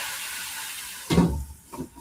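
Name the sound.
steam hissing from cayenne pepper in an overheated pan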